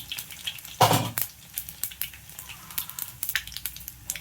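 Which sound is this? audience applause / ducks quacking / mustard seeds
mustard seeds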